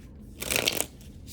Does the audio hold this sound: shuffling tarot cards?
yes